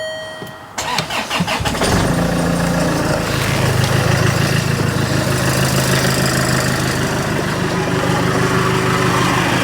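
A Land Rover Freelander 2 with its exhaust back box deleted cranks and fires up, then settles into a loud, steady, throaty idle heard close by.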